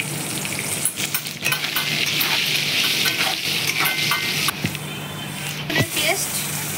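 Chopped onion sizzles loudly in oil with whole spices (dried red chillies, cumin seeds, cinnamon, cardamom and bay leaves) while being stirred, a close, continuous frying hiss with scraping stirs, and a voice talks over it.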